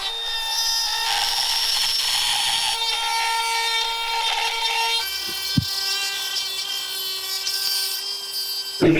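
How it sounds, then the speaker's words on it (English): A Milwaukee rotary tool fitted with a Dremel bit grinds steadily on an off-road vehicle part, a loud high-pitched whine that holds throughout with slight shifts in pitch as the bit bites in. "I'm gonna rotary tool it out with my new rotary tool and a Dremel bit"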